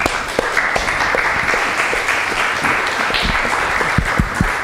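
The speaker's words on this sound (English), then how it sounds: "Well, round of applause." An audience at an open-data unconference session on reproducible analytical pipelines gives a round of applause, dense and continuous with a few sharper, closer claps standing out near the end, fairly loud, with no talk over it.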